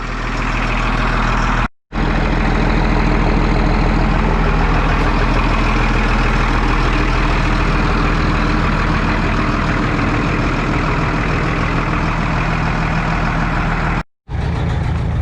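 Massey Ferguson MF 7495 tractor idling after a cold start on a dairy farm, a loud steady diesel rumble with a low throb running throughout, broken by two brief clean cuts of silence.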